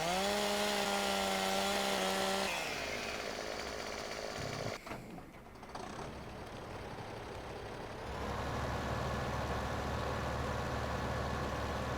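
A chainsaw in the Farming Simulator 15 game cuts logs, droning with a steady mechanical whine that drops in pitch partway through, followed by lower engine rumble and machinery hum with no talking.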